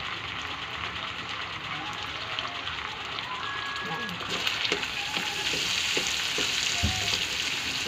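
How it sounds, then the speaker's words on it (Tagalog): Butter melts into sugar in a pan for homemade yema while it is stirred. The sizzle is soft at first and then grows louder and brighter, with scraping stir strokes and a few clinks near the end. "kailangan matunaw muna yung butter sa kinalaman na asukal"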